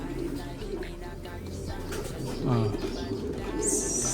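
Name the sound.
racing pigeon cooing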